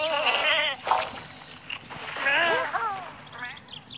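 Sheep in a video game bleat several times in quick succession, close and fairly loud, with short gaps between the wavering calls and no clear voice over them.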